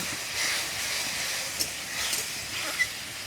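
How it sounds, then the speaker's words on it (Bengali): Spice paste of ginger, garlic, chopped tomato, chilli and turmeric with a splash of water frying in a pan, giving a soft continuous hiss with a couple of brief pops, close but fairly quiet. "অল্প একটু জল দিয়ে মশলাটাকে ভালো করে ভেজে নেব"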